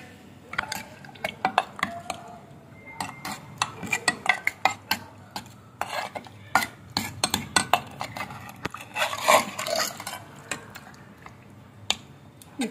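A spoon stirs tender mutton with garlic cloves in a handi cooking pot, making irregular metallic scrapes and clinks against the pot with wet, squelching stirs, close and fairly quiet.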